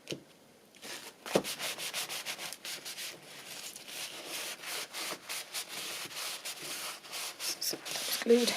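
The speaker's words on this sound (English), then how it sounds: "So I'm going to glue these two sides." Glue being applied to two sides of a paper card pocket: a steady run of quick, close, dry rubbing and scratching strokes, fairly faint, in a brisk uneven rhythm with no talking.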